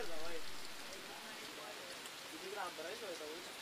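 Heavy rain falls during a local club cricket tournament match, a constant broadband hiss running throughout while a voice talks over it in places.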